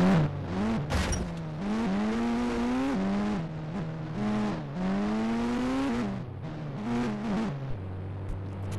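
A Range Rover driving in a video game, its engine revving up and down in repeated rising and falling pitches, loud and close, with no voices.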